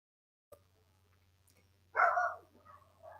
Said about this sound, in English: All the dogs in the neighborhood are going off.